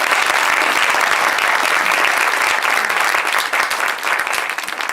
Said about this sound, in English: can you give our community partners a round of applause